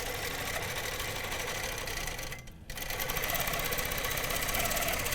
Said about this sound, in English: And we're just going to sew around the template.